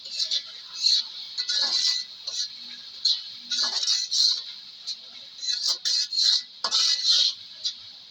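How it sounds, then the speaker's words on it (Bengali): Spices being sautéed in a pan for a potato-greens and dried fish curry: a bright sizzle that swells and fades in bursts, mixed with close metal clinks and scrapes of stirring. "মশলাগুলো খুব সুন্দরভাবে কষিয়ে নিতেছি আমরা"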